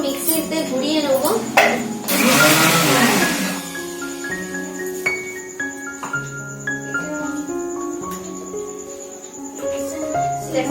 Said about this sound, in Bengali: টক দইটা না একটু মিক্সিতে ঘুরিয়ে নেবো